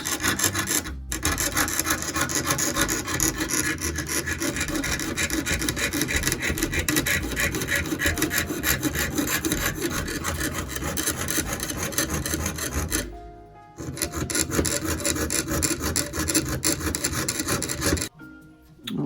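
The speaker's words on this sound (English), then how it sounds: "But it's, it's not easy sawing either." Steady back-and-forth sawing through sterling silver sheet with a jeweler's saw for a textured ring, loud and continuous with brief pauses, no talking.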